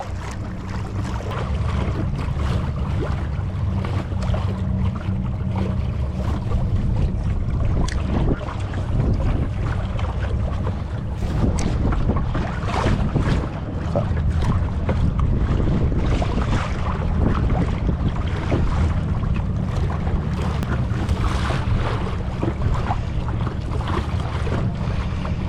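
Ascend FS10 boat running in high gear on open ocean water, a steady loud rush of water and wind buffeting the microphone throughout, with no voices.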